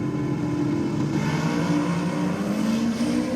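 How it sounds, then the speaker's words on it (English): A Ute and a Toyota Hilux launch side by side at a night drag racing elimination at Sydney Dragway, engines roaring loud and steady with rising revs and a continuous broadband exhaust drone throughout. "As the Ute takes off well and truly before the Hilux."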